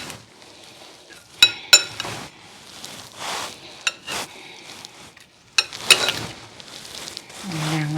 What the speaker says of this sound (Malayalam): നമുക്ക് ഇതെല്ലാം കൂടെ കൂട്ടി ഒന്ന് മിക്സ് ചെയ്യാം ഒന്ന് ടോസ് ചെയ്യാം എല്ലാം കൂടെ